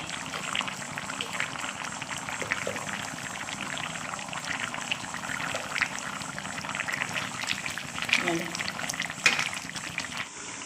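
Okra sambar simmering in a pot gives a steady, close bubbling hiss with small pops and a faint stir or two, continuous for the whole stretch with no talking.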